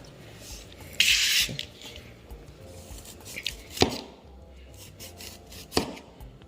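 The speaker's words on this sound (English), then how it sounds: "I'm going to go ahead and cut my lemon and lime with my knife" A knife slices through lemon and lime on a cutting board, making a few sharp, separate cuts and scrapes set against low kitchen background noise.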